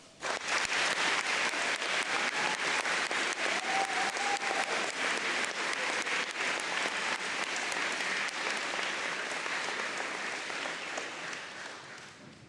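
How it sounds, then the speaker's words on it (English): Sustained applause from a graduation audience at a school ceremony, loud and dense, rising quickly and holding steady for over ten seconds before tapering off at the end. "Let's give them a round of applause."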